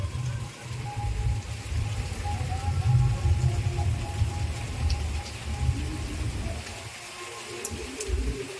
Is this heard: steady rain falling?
yes